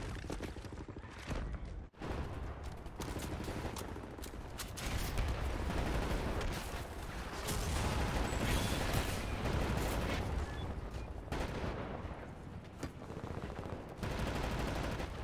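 Sustained suppressing gunfire from several weapons in the World War II shooter Wolfenstein: The New Order, dense bursts of automatic fire and cracking shots rattling nearly continuously for the whole stretch, loud and close with no voices over it.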